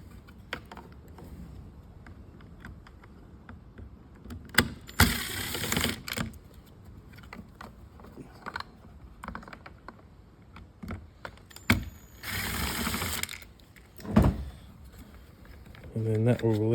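Ratchet clicking on a long extension with a T10 bit, backing out a deep screw on a Next Gen Ranger: bursts of rapid ratcheting and small metallic clicks, close, with someone talking in between.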